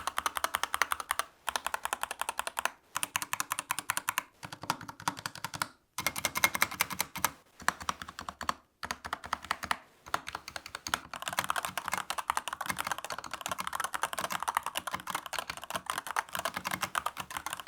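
Corsair gaming mechanical keyboard being typed on in rapid, continuous clacking keystrokes with a few short pauses, close and fairly quiet, without talk.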